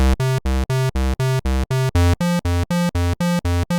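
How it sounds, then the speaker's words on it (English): A MIDI synthesizer bass line in an iPad app plays short, evenly spaced staccato notes in a steady rhythm, bright and buzzy, with no voices. "I've got a simple bass line here."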